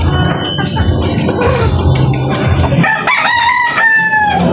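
A broodcock of the raptor sweater breed crows loudly and close, a drawn-out cock-a-doodle-doo rising over a busy farmyard with other fowl audible behind it.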